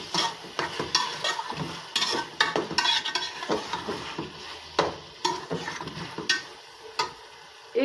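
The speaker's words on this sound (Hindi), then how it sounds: "और अच्छी तरह से इसको भून लेंगे।" Minced meat (keema) frying in a pan with onions and ginger-garlic paste, a steady sizzle broken by repeated scraping stirs of a spoon against the pot, close and fairly loud, with no talking.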